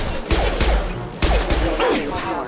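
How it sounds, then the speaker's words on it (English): Sci-fi gunfire in Mass Effect 2 comes as sharp, loud bursts of shots in a repeating rhythm over a busy combat background, with voices briefly audible. "Shoot them before they take out your shield."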